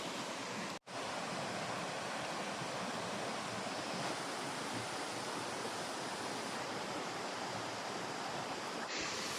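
Lodh Falls in Latehar, Jharkhand roaring as a dense, constant rush of falling water, loud and close, filling the whole scene with a steady broadband wash and one brief dropout near the start.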